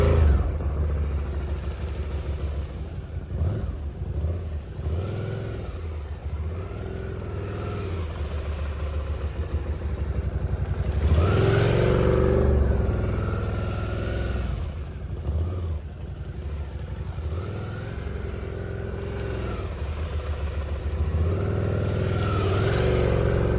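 A motorcycle ridden at slow speed during maneuver practice, its engine idling and revving unevenly as it rises and falls over about twenty seconds, fairly close and with no talking.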